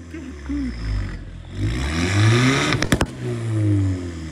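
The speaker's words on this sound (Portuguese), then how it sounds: "Mas acelera mais." A car engine revs hard at a night car meet, a rising and falling roar with a burst of sharp crackles in the middle, loud and close, with a voice speaking briefly around it.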